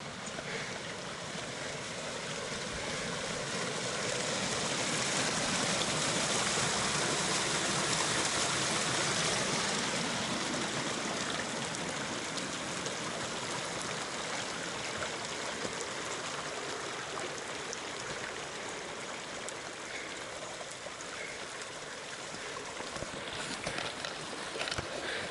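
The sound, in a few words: creek flowing on the Colorado Trail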